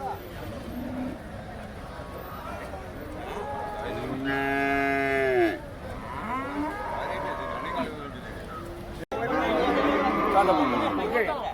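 A buffalo lets out a long, loud low bellow nearby amid a chattering crowd at a livestock market, followed by more lowing as people talk over the din.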